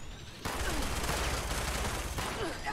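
Enemy gunfire in the Fallout 76 video game, a sustained, dense burst of rapid shots that starts abruptly and continues loudly without letup.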